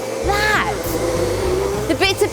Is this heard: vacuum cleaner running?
yes